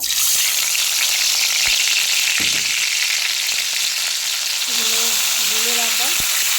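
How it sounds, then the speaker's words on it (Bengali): Cumin seeds sizzle and crackle in hot oil in a pan as they are stirred, a steady close frying hiss that runs throughout, with a brief low voice-like tone near the end. "জিরেটা ভালো করে একটু নাড়াচাড়া করে নিচ্ছি"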